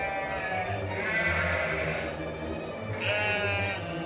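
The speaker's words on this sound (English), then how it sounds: "The goats followed them." Goats bleating on a mountainside in a story setting, a few drawn-out wavering cries rising and falling over a steady background, fairly near and clear.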